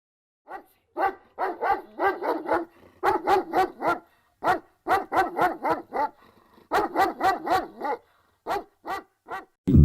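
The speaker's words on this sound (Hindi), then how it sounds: "दूर एक कुत्ते की भौंकने की आवाज आती है" A dog barks in rapid clusters of sharp, repeated yaps with short pauses between bursts, clear and fairly close rather than distant, with no other sound around it.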